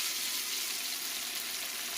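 A blended pepper mixture goes into a hot pot for Nigerian jollof rice, a faint, even hiss of sizzling oil that holds steady throughout, with no talk.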